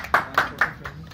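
An audience claps to cheer on contestants, with three quick claps and a fainter fourth in an even rhythm. The claps are close and fairly loud.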